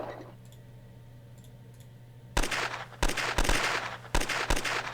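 Unit attack gunfire in the Advanced Tactics Gold strategy game: after a quiet stretch, a sudden loud burst of rapid shots, then several more clustered volleys of crackling fire in quick succession.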